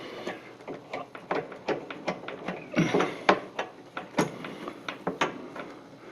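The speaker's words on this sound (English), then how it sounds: "Screw it into place." Magnetic screwdriver drives a screw into place during a Norcold N302R burner replacement, giving a string of close, uneven ratcheting clicks and creaks at a steady working pace.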